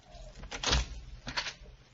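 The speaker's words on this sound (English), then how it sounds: "Now, let's try the door." An old door is tried and opened in a dark house in a radio mystery drama, giving two muffled thumps and creaks of wood and latch, close and fairly soft, with no voices.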